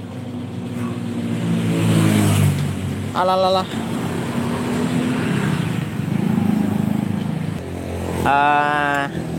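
A racing-tuned Yamaha FIZ R motorcycle engine runs loud and close, its revving drone steady throughout while people talk over it.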